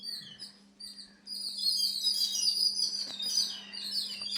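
Sparrows chirping outdoors, a quick run of high thin tweets and trills that swells after a quieter start and continues, moderately close, over a steady low hum.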